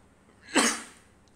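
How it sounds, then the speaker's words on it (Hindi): A single short, breathy cough with a sharp onset, heard alone against a quiet background, from a lecturer with phlegm and congestion. "कफ खांसी आ रही है मुझे बहुत ज़्यादा"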